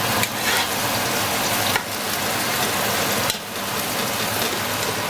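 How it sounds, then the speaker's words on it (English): Chopped onions brown in a hot pan, a loud continuous sizzle and crackle, broken twice by short dips and scraping surges as the spoon stirs them through. "And you give it a nice stir. Now you're gonna allow the onions to brown a little bit before you add the rest of the ingredients."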